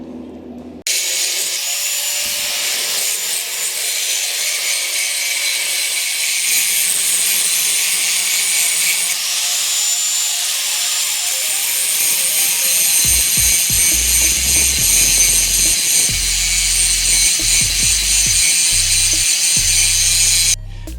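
Power tool cutting a 45-degree angle into a custom gear shifter for a 1JZ-swapped RX-7, a steady high-pitched grinding whine running nearly the whole time, close and loud, with some lower clunks and rattles toward the end.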